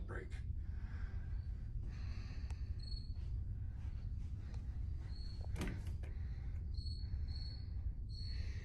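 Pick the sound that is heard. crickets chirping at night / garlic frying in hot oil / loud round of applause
crickets chirping at night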